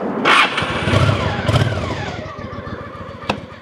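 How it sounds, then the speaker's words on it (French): A motorcycle engine cranks and fires up, rough bursts of ignition followed by a low, uneven idle with a rapid chugging rhythm, fairly close, ending in a short sharp knock. "j'ai plus qu'à mettre le moteur en route et je repars"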